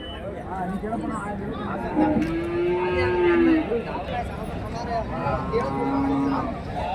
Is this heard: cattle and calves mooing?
yes